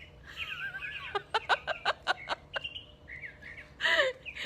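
A pet bird chirps loudly and rapidly in a burst of sharp repeated calls, then gives a few more squawks, close by.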